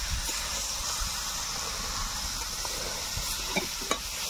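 Green peas stirred in a hot pan while cooking a vegetarian kohlrabi dish, with a continuous close sizzle and hiss and a few soft scraping stir strokes.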